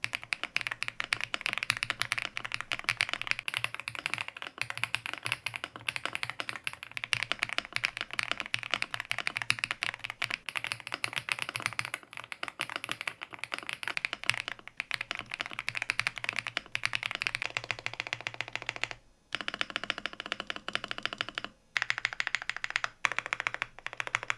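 Rapid, continuous typing on a custom Ayula mechanical keyboard, with dense clacky keystrokes close up and a couple of brief pauses.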